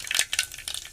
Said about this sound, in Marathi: साधारण 1 चमचा जिरं राई टाकली.